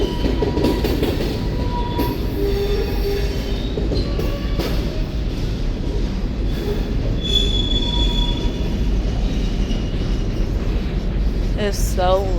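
A loud train rolls by up close with a constant heavy rumble, while shrill wheel squeals cut in repeatedly and a warbling screech rises near the end.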